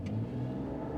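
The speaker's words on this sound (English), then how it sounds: "I'll launch her and off we go" A 2025 RAM 1500 RHO pickup truck launching off-road in Baja mode with traction control off, a brief close engine roar as it revs hard.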